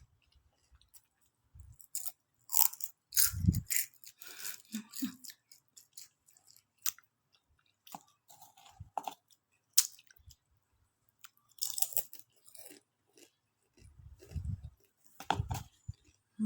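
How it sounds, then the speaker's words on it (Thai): Crispy fried wontons sold outside a school are bitten and chewed up close, with loud crunchy bursts coming in irregular clusters separated by quiet pauses. "เกี๊ยวทอดหน้าโรงเรียน ฟังเสียงเลย"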